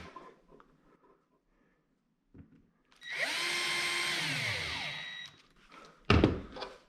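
A cordless drill driver sinks a 3.5x16 screw while fitting a Blum Aventos HK top lift mechanism, a single sustained whirring burst of about two seconds, close and fairly loud, followed by a sharp knock.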